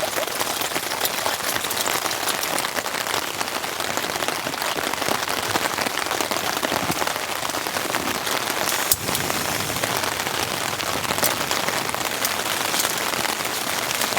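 Heavy rain drums continuously on a tent during a windy storm, a dense close patter that stays loud throughout, with no voices.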